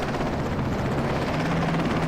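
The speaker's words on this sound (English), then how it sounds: "I will shoot down this American helicopter with my Kalashnikov if I have to." An American helicopter hovers in the video game Battlefield Iraq, a loud, steady rotor drone that fills the moment with no speech over it.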